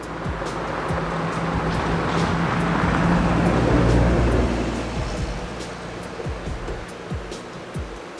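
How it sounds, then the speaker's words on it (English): A car drives past outdoors near a forest, a broad rushing swell that builds to a peak midway and then fades away, with faint scattered clicks nearby and no talking. "someone's driving by"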